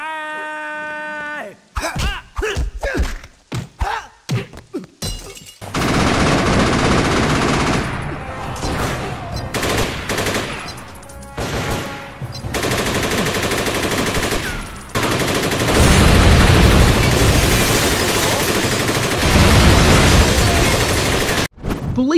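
Gunfire in the martial-arts action video game Jet Li: Rise to Honor, set in Hong Kong's underworld: sharp staccato shots give way to long sustained bursts of automatic fire and booms, with brief pauses between loud volleys.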